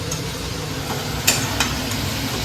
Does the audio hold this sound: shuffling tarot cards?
no